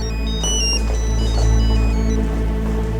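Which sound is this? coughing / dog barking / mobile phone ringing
mobile phone ringing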